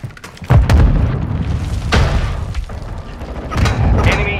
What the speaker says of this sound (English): set a charge on the target and detonate it